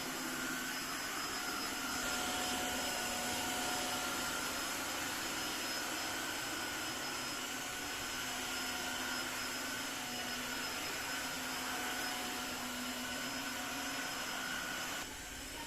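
Tineco iFloor3 cordless vacuum cleaner running steadily across a floor, a loud continuous whining motor drone with a high tonal hum, unbroken for the whole stretch with no talk.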